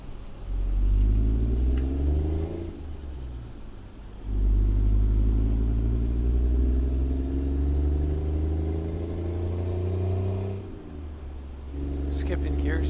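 Kenworth 521 truck pulling a 1950s Fruehauf tank trailer in American Truck Simulator, its engine droning and rising in pitch through each gear before dropping at the shifts, loud and close, with a voice talking over it.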